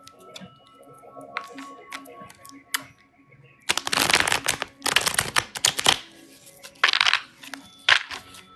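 Tarot cards shuffled and counted through by hand, with soft riffling bursts and several short flurries of card handling over quiet room tone, close and moderately loud.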